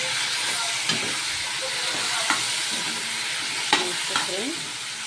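Tomatoes sizzle in a hot pan for a spring onion curry, a steady bright hiss with a few soft scrapes and clinks of a spoon stirring, close and moderately loud.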